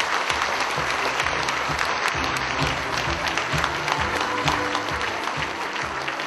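An audience at a school event applauds in a dense, sustained burst of clapping for the principal that lasts several seconds, loud and near, with no voices over it.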